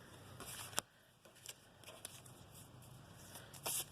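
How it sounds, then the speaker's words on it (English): Soft, quiet rustling with a few sharp flicks and riffles of tarot cards being shuffled by hand, close by, with pauses in between. "So hard to kind of shuffle on camera"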